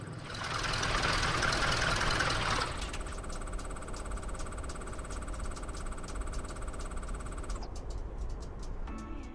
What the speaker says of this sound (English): Alright, engine off.